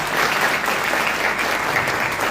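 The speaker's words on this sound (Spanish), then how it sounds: "un aplauso también para ellos." An audience at a Guarani language and culture athenaeum tribute event applauds a group of students with dense, steady clapping that runs unbroken throughout at an even level.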